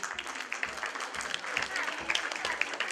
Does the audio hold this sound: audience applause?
yes